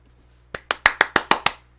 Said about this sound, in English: Round of applause for mentioning Frank Marsh.